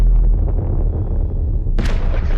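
A deep, rumbling explosion in a horror role-play game rolls on as a continuous low roar, then a bright crackling burst of debris joins near the end, loud and close.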